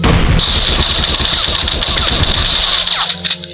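Rapid gunfire from a weapon in the horror video game Horror Train, a loud sustained burst of shots lasting about three seconds, fading out near the end.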